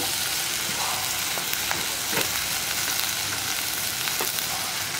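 Chopped onions sautéing in a pan for a Kerala mango curry, a steady close sizzle with a few faint scraping stirs and no voices.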